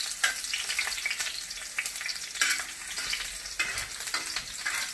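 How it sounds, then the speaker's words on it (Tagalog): Garlic sizzles and crackles in hot oil in a pan, a steady bright frying hiss broken by sharp spatters and the scrape of stirring, close and fairly loud with no talk. "Oil, so ready to put in the garlic, bawang first."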